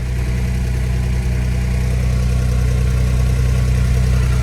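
An engine on an abandoned airplane runs on its mechanical fuel pump, a loud, steady, deep drone that holds even throughout, with no talk over it.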